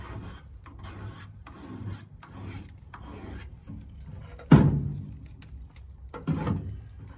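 A worn chainsaw bar is dressed with a flat file, giving repeated short rasping strokes in a steady rhythm, close and clear, with two heavier scraping passes near the end.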